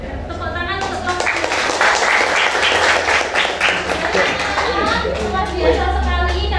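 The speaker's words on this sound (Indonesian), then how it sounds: "Tepuk tangan untuk kelompok." Classroom applause for a group of students, a burst of dense clapping lasting several seconds with children chattering and voices mixed in.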